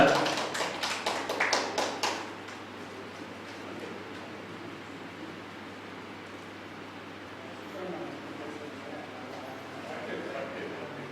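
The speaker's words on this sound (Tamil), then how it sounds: "உங்களுடைய உற்சாகமான கைத்தட்டலோட" Audience clapping at a ceremony on stage, a short burst of applause from a crowd that quickly fades into quiet room murmur and distant voices.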